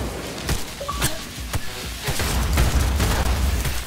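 A grenade explosion in first-person gameplay of Cyberpunk 2077, heard as a series of sharp, loud booms and impacts in quick succession amid combat gunfire.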